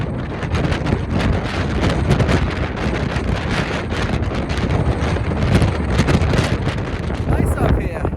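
Strong wind roars steadily and loudly on Mount Washington, buffeting the microphone with constant rumbling gusts and no clear pauses.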